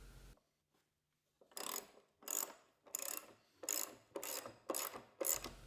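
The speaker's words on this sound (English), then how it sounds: "Tighten it with a socket wrench using a deep socket" A socket wrench with a deep socket tightens the nut on a carriage bolt in a wooden raised bed frame, a series of six rhythmic ratcheting clicks in quick strokes, close and crisp, after a brief quiet start.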